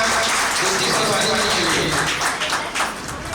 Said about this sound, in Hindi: एक बार जोरदार तालियां होनी चाहिए कार्यक्रम के नाम